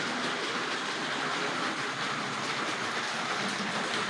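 A Tri-ang Hornby model 3F tender locomotive running on model railway track gives a steady, faint whirring and rattling rumble that carries on without a break.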